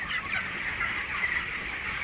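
A large crowd of chickens in a big poultry farm, with overlapping clucks and chatter forming a continuous, moderately loud din and no voices over it.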